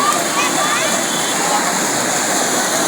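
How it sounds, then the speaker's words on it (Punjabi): Steady rushing water fills the clip, a constant broadband flow of an irrigation canal in Punjab, India, loud and close with no pauses. "ਵਧੀਆ ਤਰੀਕੇ ਨਾਲ ਵਗ ਰਿਹਾ ਇਹ ਪੱਕਾ ਜੋ ਭਗਵੰਤ ਮਾਨ ਨੇ ਕਸੀਆਂ ਬਣਵਾਈਆਂ ਨੇ"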